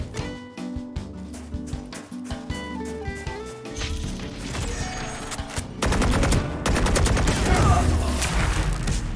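Rapid video-game gunfire, dense bursts of sharp automatic shots rattling continuously and growing heavier and louder toward the end, with music or effects mixed underneath.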